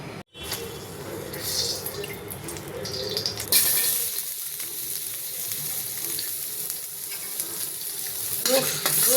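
Chopped garlic sizzles in a pot of chicken soup with carrot and papaya, a steady close frying hiss with faint stirring and a brief water-like splash, the sizzle swelling louder partway through.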